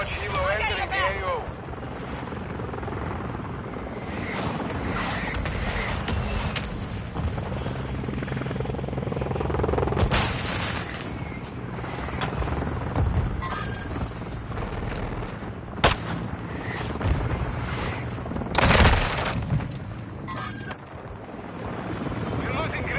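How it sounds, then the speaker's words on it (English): A military helicopter in Call of Duty Modern Warfare 2 thumps steadily overhead in a loud, dense battlefield mix, with scattered gunfire bursts and explosive booms cutting through and voices faintly present. "Friendly Overwatch helo entering the AO."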